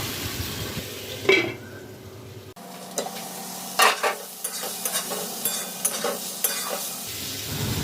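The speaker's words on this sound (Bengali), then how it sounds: "এইভাবেই আমি কয়েকবার ঢাকা দিয়ে দিয়ে আলু পটলটাকে ভালো করে ভেজে নেব" Potato and pointed gourd curry being stirred and fried in a pan, with a soft background sizzle broken by a few louder scraping and clinking strokes of the spoon, close by and with no talk.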